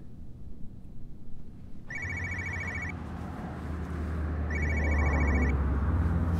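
A telephone rings in two electronic bursts about two seconds apart over a low droning hum, with no talking.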